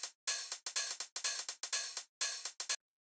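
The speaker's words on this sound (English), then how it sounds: "simple closed hi-hat and an open hi-hat. I believe these are also from a 909" A Roland 909 drum machine plays a dry hi-hat pattern, closed hi-hats mixed with longer open hi-hat hits in a steady, crisp rhythm, alone and without other drums.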